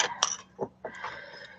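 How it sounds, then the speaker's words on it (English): Someone coughs a few times in short, fairly quiet bursts, close by and with no speech over it. "I still have a little bit of that nasty cough"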